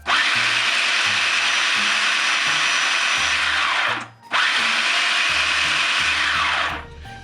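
Two long, loud pulses of a food processor whirring through apple pie dough, steady motor roar with a brief drop between them and a trailing fade at the end.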